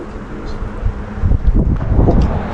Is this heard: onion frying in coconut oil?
no